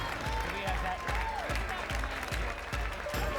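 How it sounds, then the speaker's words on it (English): Audience applause for competing chefs at a live cooking competition event, a dense sustained clapping crowd under a rhythmic thumping beat from the venue's music. "can we give all of our competing chefs a thunderous round of applause?"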